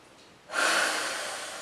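One deep, audible inhalation during a Pilates stretch, a close, airy breath that rises suddenly and then tapers slowly.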